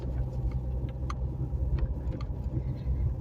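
A car driving on a spring trip to buy petrol, heard from inside as a steady, loud low rumble of engine and road noise that continues without a break and with no clear talk.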